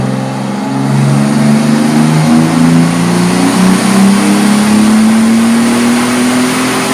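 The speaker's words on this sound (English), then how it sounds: "It's an inline 6-cylinder engine, 3-liter twin turbocharged that makes between 280 and 320 horses." A Toyota Supra MK4 with a 3-liter twin-turbo inline-six revs loud and close, its engine note climbing steadily in pitch as it accelerates, with no voices.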